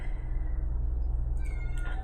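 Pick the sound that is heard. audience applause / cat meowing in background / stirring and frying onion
cat meowing in background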